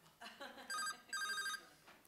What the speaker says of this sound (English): I think that's my pants are ringing.